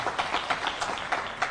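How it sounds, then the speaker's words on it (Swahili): Crowd applause at a Kenyan political gathering at a university, a steady wash of many hands clapping with small swells, alone without talk. "Makofi kwake"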